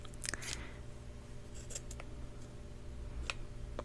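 Scissors cut open a potion ingredient in a quiet indoor setting, a few faint, crisp snips and clicks scattered over a low steady hum, with no voices.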